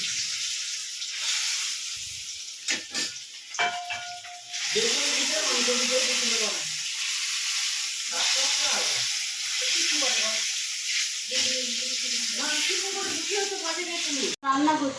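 Malpua, Bengali sweet pancakes, fry in a home kitchen with a steady sizzling hiss broken by brief gaps and clinks, while someone talks over it for most of the time.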